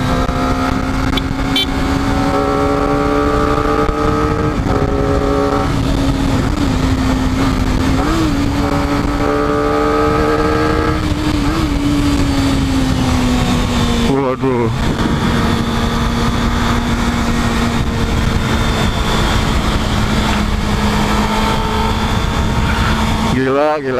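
Kawasaki ZX25R KRT ABS SE motorcycle engine while riding: a loud, steady high-revving four-cylinder whine holds near and constant, with brief gear-change dips and rises, under continuous wind rush.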